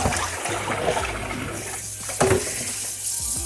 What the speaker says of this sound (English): now I'm pouring the vinegar water out